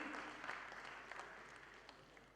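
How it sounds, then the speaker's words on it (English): Audience applause at the inaugural ceremony of the 36th IATO Annual Convention, a steady faint wash of many hands clapping that holds throughout and slowly fades, with no talk over it. "A round of applause, ladies and gentlemen"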